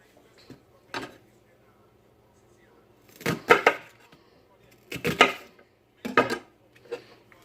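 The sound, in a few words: chopping onion with a knife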